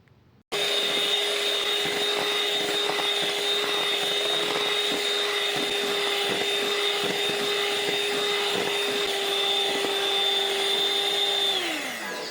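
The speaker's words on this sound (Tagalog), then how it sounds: "gamit ang electric mixer, ibibit ko to until mag-double ang volume ng ating mixture" Electric mixer beating chilled milk into a mixture, a loud steady high whine that starts abruptly, holds for about eleven seconds, then winds down at the end, with no talking.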